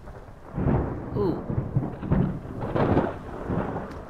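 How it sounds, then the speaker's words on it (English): Thunderstorm in the video game Unblooded, with rolling rumbles and rain-like noise throughout and a brief exclamation from a voice partway through. "Yes, let's not stand out on the edge of a cliff wearing metal in a thunderstorm."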